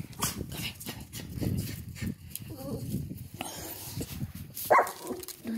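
A dog makes a few short barks and whimpers outdoors near a horse, fairly faint and scattered, with a person talking nearby.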